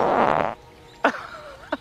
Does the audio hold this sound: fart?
yes